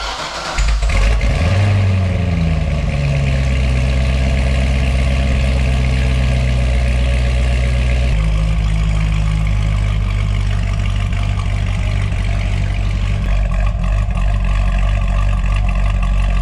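A C6 Corvette ZR1's supercharged 6.2-liter LS9 fires up through its exhaust with a loud bark and rev, then drops into a deep, steady idle that shifts tone partway through, alone and close.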